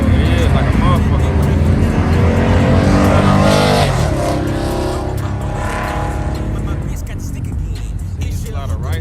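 A boosted car revving hard at a pop-up car meet, a loud, dense engine roar sustained throughout with tire noise, while people talk nearby over it.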